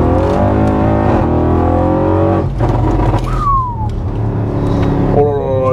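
An Audi RS6 Stage 2 accelerating hard, its engine revving loudly through rising gears with a brief tire squeal, heard up close from inside the car while people talk.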